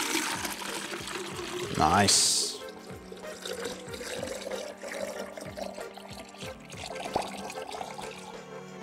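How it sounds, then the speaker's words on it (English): Water runs and splashes into a plastic bottle, with a brief louder gush early on, then a steady trickling pour; a voice speaks briefly. "Let's just fill it up with water."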